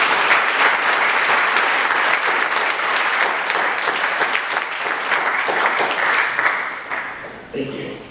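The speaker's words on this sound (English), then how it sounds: "please give them a big round of applause" Audience at an impact investing forum applauds event sponsors, a dense, steady wash of many hands clapping that holds loud and even for about seven seconds before tapering off near the end.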